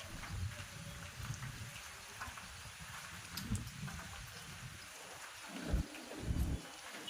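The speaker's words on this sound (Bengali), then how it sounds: "কিন্তু এত বৃষ্টি, এত বৃষ্টি" Heavy rain pours down outdoors in a dense, rushing wash with occasional gusty swells and low rumbles toward the end, no voices.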